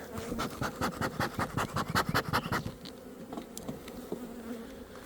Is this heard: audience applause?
no